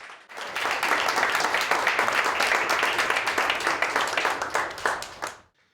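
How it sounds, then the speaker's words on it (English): Audience applauds the facilities team at a grand opening ceremony, a full burst of clapping that starts abruptly, holds steady for about five seconds, then fades out. "I think we ought to give them a round of applause."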